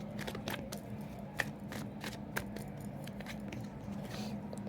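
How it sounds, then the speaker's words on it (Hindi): Tarot cards are shuffled by hand in short, quiet riffles and soft flicks, with a few sharper snaps standing out against faint room noise. "अच्छा चलो और एक बार शफल कर ही लेते हैं।"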